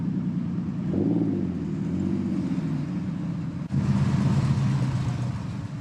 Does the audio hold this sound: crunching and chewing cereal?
no